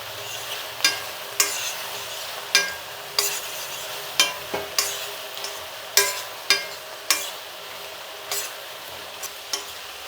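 Okra being stirred in a pan, a series of sharp, evenly spaced scrapes and clacks of a utensil over a soft, steady sizzle, close and alone without talk.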